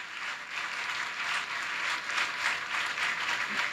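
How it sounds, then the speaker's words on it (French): A congregation claps for their brothers and sisters during a church worship service at Temple Eben-Ezer in Abia-Koumassi, with steady, sustained applause filling the hall throughout. "Acclamons fortement pour nos frères et sœurs."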